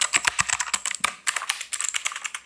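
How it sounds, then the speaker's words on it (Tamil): Rapid typing on an RGB keyboard with mechanical switches, close and crisp, a quick irregular run of clicky keystrokes with no talk. "ஒரு RGB கீபோர்டு. ஸோ லைட்டிங் இருக்குது, மெக்கானிக்கல் ஸ்விட்சஸ்."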